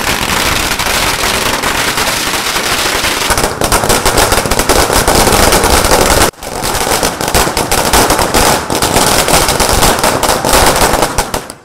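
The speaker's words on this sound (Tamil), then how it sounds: "தலைமைக் கழகம் முன்பு பட்டாசுகள் வெடித்தும்" A long, dense string of firecrackers crackles and pops in rapid, continuous bursts, loud and close, at an AIADMK victory celebration outside party headquarters, with a brief pause midway before the barrage resumes.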